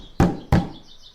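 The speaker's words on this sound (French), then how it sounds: "il est venu seul frapper à la porte de la maisonnette" Two firm knocks on a wooden door, close and loud, a quick pair with a brief ring-out after each and nothing else heard.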